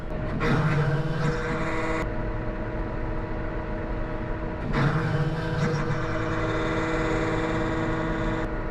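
A cold tractor engine runs steadily close by with a droning tonal hum, and two louder surges of revving or mechanical noise break in.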